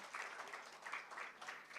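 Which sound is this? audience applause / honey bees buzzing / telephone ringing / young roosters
audience applause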